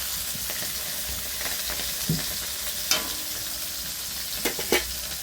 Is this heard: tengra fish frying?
yes